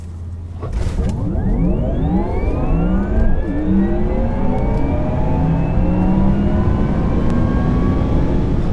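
Porsche Taycan Turbo electric car accelerating hard, giving a loud, steady futuristic whine that climbs in pitch across several rising tones, spaceship-like, with no engine roar and no talking.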